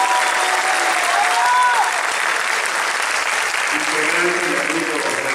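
Audience applause at a posthumous tribute concert, steady and fairly loud throughout with crowd noise, a few voices calling out over it near the end.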